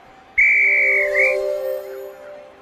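A clear, sustained electronic whistle tone from the video game I Spy Fun House, with a brief upward slide near its end, sounding alone against a faint steady background hum.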